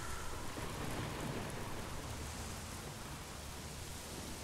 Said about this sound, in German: Warum gewittert hier ständig?